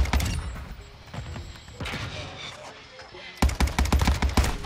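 Cronen Squall rifle gunfire in Modern Warfare 2, heard as bursts of rapid shots up close, with a quieter stretch before a final loud volley of sharp, evenly spaced shots.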